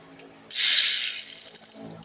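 Ratchet working loose bolts on the step motor of a 2008 Nissan Sentra 2.0L, a burst of hissy clicking followed by a quicker run of short ratchet clicks, close and fairly loud with no talking.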